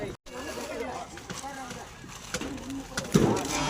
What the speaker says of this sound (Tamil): புறா அந்த பக்கம்